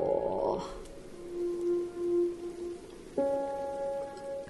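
Heavy rain in the video game Raison d'etre falls as a soft, steady hiss in the background, faint and continuous beneath sustained electronic tones.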